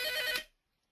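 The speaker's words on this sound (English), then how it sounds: "I'm very got a phone ringing in the background here" A telephone rings briefly in the background, one bright electronic ring lasting about half a second before cutting off into silence.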